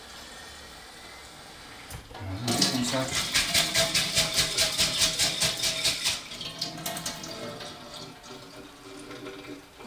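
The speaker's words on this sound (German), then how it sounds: "Also noch ein bisschen Wasser reinlassen" Water gushes steadily into a container for several seconds, with a pulsing flow, then tapers off; a short spoken word comes just before.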